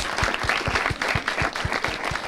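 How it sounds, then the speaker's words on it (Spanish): Studio audience clapping on a TV talk show in Aguascalientes, a brief lively round of applause with distinct individual claps standing out in a fairly quick rhythm. "Un aplauso para Jenny también por platicar con nosotros"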